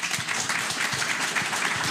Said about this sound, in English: Could we get a round of applause for our panelists?